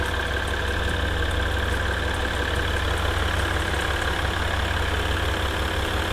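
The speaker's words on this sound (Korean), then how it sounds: "엔진 소리 일정하네요" A Maserati Ghibli 3.0 diesel engine idles at an even, unchanging rumble with a low drone and constant hum, no voices, running continuously throughout.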